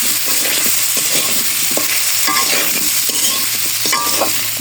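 Spices with chilli powder sizzle and fry in a pan, a steady broadband crackle broken by repeated scraping strokes of a spatula at a regular rhythm, close and fairly loud with no talking.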